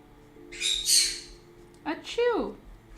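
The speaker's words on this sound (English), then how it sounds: "The birds are just wilding this morning." Birds squawking outdoors in the morning: a harsh, loud, high burst, then a pause and a few more squawks with falling tones, sounding fairly close.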